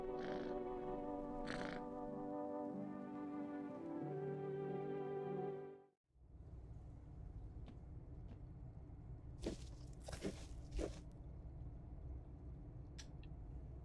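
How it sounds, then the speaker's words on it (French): A cat's steady low purring rumble, close and continuous, first mixed with tonal music, then alone with a few faint clicks and rustles. "c'est le chat"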